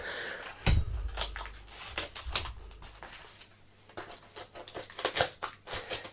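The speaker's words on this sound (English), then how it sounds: "I'm gonna have to grab scissors" A series of close, sharp snips and clicks of scissors cutting packing tape on a package, irregular in rhythm, with a thud near the start and some rustling.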